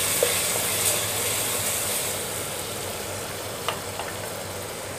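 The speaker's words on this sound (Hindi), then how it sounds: "प्याज हो गई, देखिए हम अदरक लहसुन का पेस्ट डाल देंगे इसमें, और इसको भूनेंगे" Onion and ginger-garlic paste fry in an open pressure cooker, giving a steady close sizzle with a few soft clinks of stirring.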